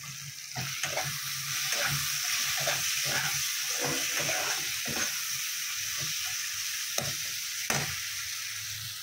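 Spices with turmeric powder sizzle steadily in a pan for a fish curry with drumsticks and potatoes, a constant hiss under irregular clacks of a spatula stirring and scraping.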